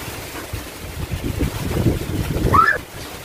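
Strong wind from Typhoon Odette at signal no. 4 in Cebu, roaring low and gusting steadily over the microphone, swelling toward the end with a faint higher whistle riding on it.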